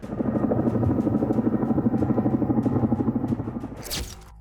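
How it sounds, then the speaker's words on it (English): Military helicopters lift off from Kacha airfield in occupied Crimea, a loud, steady rotor thumping that fills the scene before fading at the end. "helicopters took off from the Kacha airfield"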